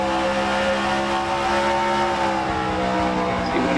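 A sim racing game race car engine screams near redline, a sustained high-pitched whine holding steady and loud throughout with no voices over it.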